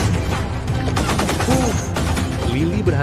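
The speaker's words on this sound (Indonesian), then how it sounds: "Lalu, terjadi lagi aksi tembak-tembakan." A shootout in an action film cracks with rapid bursts of gunfire mixed with voices and other action sounds, loud and dense over a few seconds.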